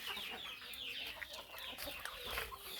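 Desi country chickens cluck softly on a free-range village farm, a faint, busy cluster of short overlapping clucks and calls at some distance with light background noise.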